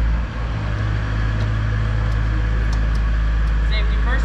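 A Nissan UniCarriers propane forklift, a 5,000 lb LP model, being driven, with a steady low engine drone and constant hum throughout, close and loud, with faint clicks over it.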